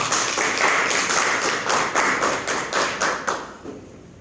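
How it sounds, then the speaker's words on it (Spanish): Applause at a round-table event, many hands clapping in a rhythmic, fairly close burst that swells, pulses in waves and fades out after about four seconds. "Brindémosle un fuerte aplauso."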